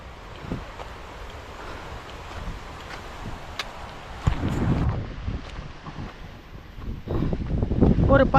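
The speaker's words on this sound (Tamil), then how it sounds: "அந்த காற்று சுழட்டி ஆளே தள்ளுற அளவுக்கு அடிக்குது." Strong wind buffets the microphone on an open hill trail, a steady rushing roar that swells into heavier gusts toward the end.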